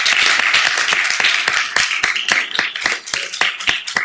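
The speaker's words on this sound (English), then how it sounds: "can we give the marketing, the NPR team, one more round of applause for everything they've done?" Loud, close applause from a city council meeting audience honoring a team, dense clapping with distinct individual claps throughout.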